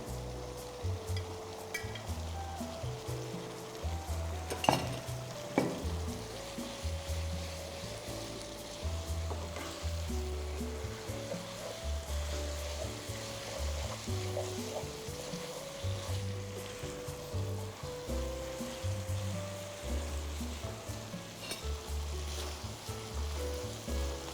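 Glass noodles stir-fried with water mimosa in a pan, a steady close sizzle with occasional scraping and clinks of a utensil, continuous throughout with no talking.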